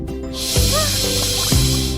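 A voice imitates a funny little fish's 'ch ch ch ch' in a French children's song, a breathy hissing burst running almost the whole clip over sung music and a steady backing.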